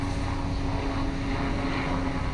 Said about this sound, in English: There's actually an airplane going over